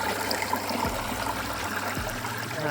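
Water drains steadily down into a drain in a creek bed along an outdoor trail, a continuous trickling rush with a couple of low thumps underneath and no talking.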